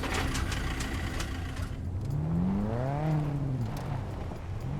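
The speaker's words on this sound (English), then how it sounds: "as soon as I start this engine, they could come over" A vehicle engine cranks and catches in the survival game SCUM, its pitch sweeping up and then settling into a rising, revving hum, loud and close over a steady background rumble.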